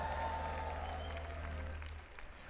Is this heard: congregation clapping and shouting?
yes